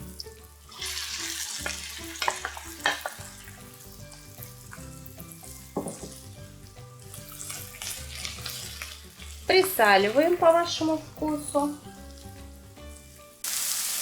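Onions and mushrooms sizzle steadily in a frying pan, with stirring scrapes and occasional louder crackles, and someone speaks briefly over the cooking.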